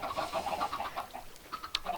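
Chickens in a video game's farm pen give short, clustered clucks, moderately close and fairly quiet, in quick uneven bursts over about two seconds. No speech is heard.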